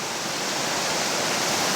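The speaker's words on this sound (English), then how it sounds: "I'm here at Iron Ring Rapid. This is a huge rapid on the Upper Gauly." Roaring whitewater at Iron Ring Rapid on the Upper Gauley river, a steady, dense, loud rush of churning water with no pauses.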